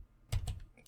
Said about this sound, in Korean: 들으시면서 끝나는 부분에 키보드의 B 버튼 눌러주세요.